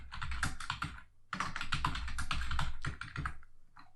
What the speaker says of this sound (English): there may be an area, such as the one I've highlighted here, where you can type something